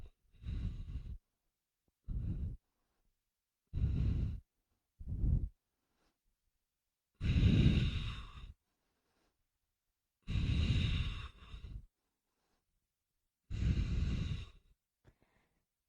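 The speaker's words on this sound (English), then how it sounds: "Keep breathing." Heavy breathing during a power yoga ab exercise: six separate forceful, breathy exhales, some short and some longer and sighing, close up with silence between them.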